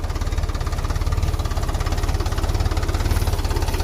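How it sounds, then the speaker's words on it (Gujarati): A tractor engine chugs steadily at close range while pulling a harrow across a farm field, a rapid even diesel knock with heavy vibration throughout and no voices. "ટ્રેક્ટર હાંકે રાપ હાંકે છે"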